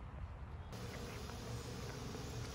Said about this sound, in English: I wonder how many foreign bees are here as well.